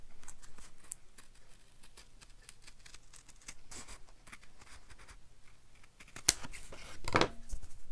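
Scissors snip a thin paper tab for a handmade card, a run of soft crisp cuts and rustles close by, ending in a sharper burst of snipping.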